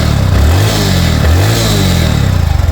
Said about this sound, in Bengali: দেখেন স্টার্ট করেছি একদম স্মুথলি সাউন্ড রয়েছে বাইকটা